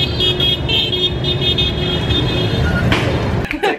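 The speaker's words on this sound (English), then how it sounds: "do you notice that they also honk with the with some rhythm?" Car and motorbike horns toot in short repeated bursts over dense, loud engine roar on a busy street in Vietnam, with traffic rumbling throughout.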